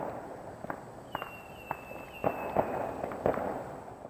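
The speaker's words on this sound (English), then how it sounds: "Got the fireworks going off over here in Alice Springs." Fireworks go off in Alice Springs, Australia, heard as scattered sharp cracks and pops at a distance, about a dozen irregular bangs over a steady outdoor hiss, with a thin whistling trail through the middle.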